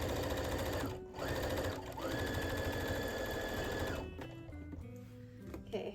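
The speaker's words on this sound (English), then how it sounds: "So I have to sew these together." A sewing machine runs fast and steadily, stitching a curtain-fabric pocket lining to the outer pocket of a jacket. It whirs loudly and close, with brief pauses and changes in speed near the end.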